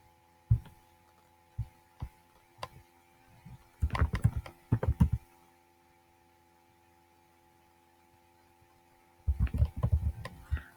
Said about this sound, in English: type in your teacher's email address or last name